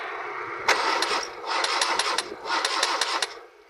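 A car engine on a weak battery cranks in three sluggish, rattling bursts separated by short pauses, each a rhythmic whirring churn that fails to catch.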